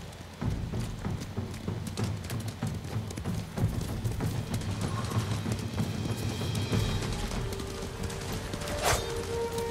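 Rapid hoofbeats of several horses galloping in the video game Ghost of Tsushima, a dense rumbling clatter that runs steadily throughout with a brief sharp tone near the end.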